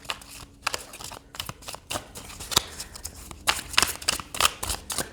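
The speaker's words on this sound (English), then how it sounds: "we're going to see how these shuffle here" Modern Witch tarot deck cards being shuffled, a quick run of crisp riffling bursts and soft card slaps repeating close up through the whole stretch, with no talking.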